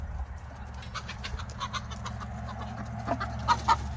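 Chickens clucking softly among farm background noise, with a few brief sharper clucks near the end; there is steady low rumble underneath and no talk.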